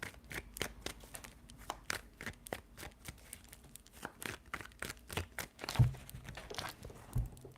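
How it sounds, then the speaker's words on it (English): Tarot cards being shuffled close up, a quick series of soft riffling slaps and crisp flicks at an uneven rhythm, with no talking. "Three shuffles."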